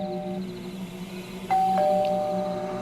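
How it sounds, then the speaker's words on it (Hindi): A two-tone doorbell chime rings once, clear and close, over a steady low background hum with no talking. "उसने फिर से डोरबेल बजाई।"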